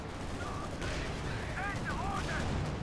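Gunfire and a grenade assault in the real-time strategy game Company of Heroes 2, during a 1v1 match, form a steady, dense wash of battle noise with scattered rattling shots throughout.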